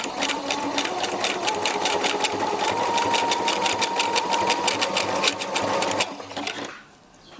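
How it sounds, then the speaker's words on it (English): Sewing machine stitching a close zigzag seam on a bra, a steady rapid mechanical whir with rhythmic needle clatter running for about six seconds, then stopping abruptly into near silence. "You can do a smaller zigzag, you can do a larger zigzag, but you want the stitches to be nice and close"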